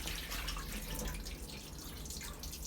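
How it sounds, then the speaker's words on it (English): Murky rinse water from washed rice pouring and trickling out of a pot into a sink while making homemade sushi, a soft close splashing and dripping with no talk. "The water is very murky, so you have to drain them out."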